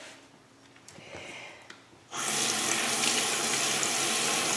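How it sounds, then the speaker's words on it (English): Quiet handling noises, then a faucet turns on and water runs steadily and loudly at close range as a Clarisonic facial cleansing brush is rinsed under the stream. "Let me rinse my Clarisonic brush."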